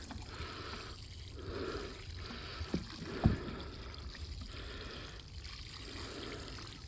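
Water trickles and pours softly onto the soil of a transplanted pepper plant, a faint continuous wet flow with a couple of small knocks midway.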